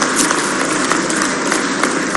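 An audience at a ceremony for national highway projects applauds Gadkari with loud, dense, continuous clapping that fills the space and holds steady without pause.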